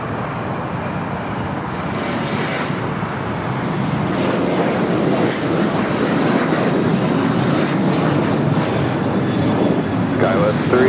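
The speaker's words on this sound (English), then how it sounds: "the Cathay Pacific 777 just made that turn" A Cathay Pacific Boeing 777 jet airliner turning at LAX, a loud, steady engine roar with wind noise that holds throughout, while a voice talks over it.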